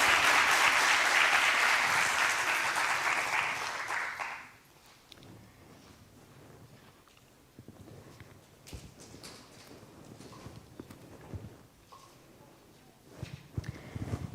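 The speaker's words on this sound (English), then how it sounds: "Applaud." Audience in an auditorium at a medical event applauding loudly for about four seconds before the clapping cuts off to a quiet room with faint rustling and shuffling.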